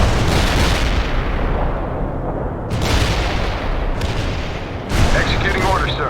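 Loud, booming artillery fire in the World in Conflict video game comes in several heavy blasts amid continuous battlefield rumble, while voices speak over the noise.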